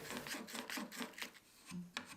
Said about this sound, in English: And I follow that up with a little sanding.